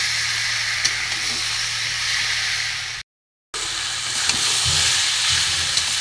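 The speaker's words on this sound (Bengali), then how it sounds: "সব মশলা দেওয়া হয়ে গেছে, এবার সুন্দর করে কষে নেবো।" Spiced mung dal, dry-roasted and washed beforehand, sizzles steadily in a hot pan as it is stir-fried, a close, continuous hiss with a brief gap partway through.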